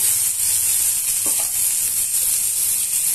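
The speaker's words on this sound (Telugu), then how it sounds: "ఇప్పుడు ఇవన్నీ కూడా బాగా వేయించేస్తున్నాము." Steady, loud hissing sizzle of onions and green chillies frying in a hot pan, continuous throughout with no voices.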